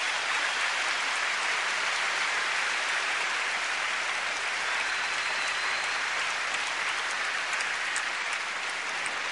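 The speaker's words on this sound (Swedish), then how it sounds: "ska vi ge Björn en riktigt varm applåd" Warm, sustained applause from a large audience at a sports awards gala, honouring a tennis player. The clapping is a dense, even roar that sounds almost like heavy rain and holds at a steady level throughout.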